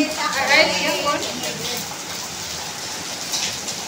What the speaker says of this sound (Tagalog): Umuulan siya ng ice.